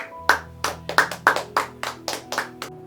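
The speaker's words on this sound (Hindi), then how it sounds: "तो आइए हम ताली बजाकर हमारे आत्मिक पिता पास्टर चैंडी का स्वागत करते हैं।" During a church Vacation Bible School event, a group welcomes their pastor with about a dozen crisp, rhythmic hand claps, close and distinct, while a sustained musical tone hums underneath.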